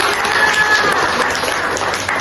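A classroom of students applauds a student group, a dense, steady patter of many hands clapping together at close range for a couple of seconds, loud and fairly even throughout.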